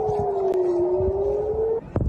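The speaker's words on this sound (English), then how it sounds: "We've been hearing air raid sirens across Israeli cities." A steady wailing air raid siren tone in an Israeli city holds for nearly two seconds, then cuts off, followed by brief low thumps.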